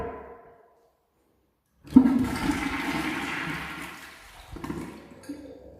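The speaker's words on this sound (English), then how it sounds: "That's the big flush." A big flush from a toilet in a VW ID Buzz bathroom roars up suddenly after a moment of silence, then rushes and gurgles for several seconds before tapering off.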